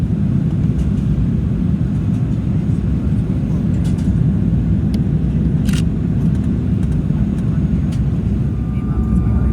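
A jetBlue Embraer 190 airliner on approach to Presque Isle, Maine, gives a steady, loud low rumble of engine and airflow noise throughout, with no distinct breaks.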